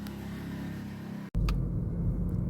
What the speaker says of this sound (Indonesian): tampak kemacetan lalu lintas masih belum terurai